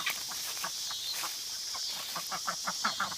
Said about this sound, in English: Oh, here come the guineas.